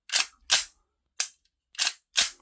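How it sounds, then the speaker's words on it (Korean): Five sharp metallic clacks at irregular spacing as the charging handle of a miniature full-metal AK-47 model gun is pulled and released, close and crisp with no talking. "이게 진짜 진짜 어떤 AK 소총의 장전 손잡이를 당기는 바로 그 느낌입니다"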